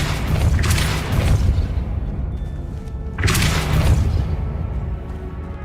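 Depulso spell cast in Hogwarts Legacy, two loud whooshing bursts with a booming thump about three seconds apart, each trailing off into a quieter rumble.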